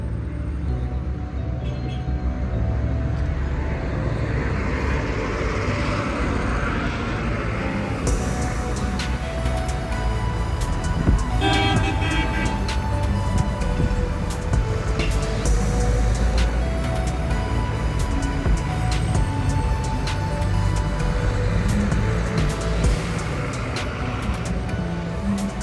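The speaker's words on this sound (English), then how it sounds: "Lots of small mini buses" Minibuses and other traffic rumble steadily around a busy bus park in downtown Alexandria, Egypt, with engine drone and occasional clanks and horn-like tones close by, and no clear talk.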